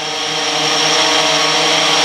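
A Blade 350 QX quadcopter in flight gives a loud, steady, close whirring buzz of spinning propellers, alone with no voices.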